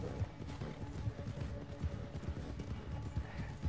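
A horse with nearly depleted stamina gallops in Red Dead Redemption 2 with quick, rhythmic hoof clops, close and continuous, with faint speech underneath.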